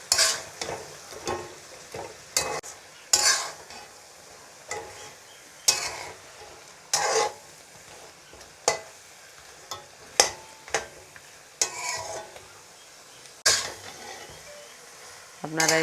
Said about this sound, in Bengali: এখন আরও কিছুক্ষণ কষিয়ে নেব।